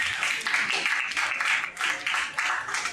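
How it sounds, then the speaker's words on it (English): An audience applauds after a talk at a DAO services event, with dense clapping that swells and dips in waves and carries on without a break. "A round of applause."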